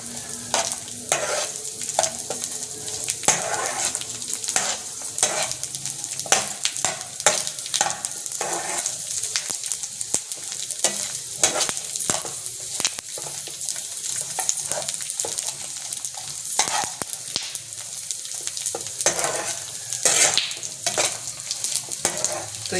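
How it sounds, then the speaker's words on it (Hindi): Aloe vera halwa fries in a pan while a spoon stirs it steadily, giving a continuous close sizzle broken by repeated scraping and clattering strokes against the metal, loud and with no voices. "इसको चलाते रहना है ताकि जल नहीं जाए, नीचे लगे नहीं।"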